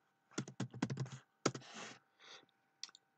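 Keys tapped in quick bursts on a computer keyboard while Ubuntu download is typed into a search box, close and fairly quiet with short pauses between clusters of clicks.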